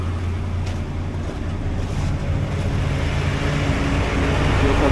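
A BRDM armored vehicle's engine idles after starting, a dense, steady low drone that swells slightly louder over a few seconds, close by and unbroken by voices.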